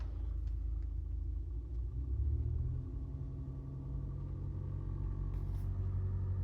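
Engine running inside a Mahindra Thar Roxx cabin, a low steady rumble and hum with faint vibration, quiet and continuous, no voices.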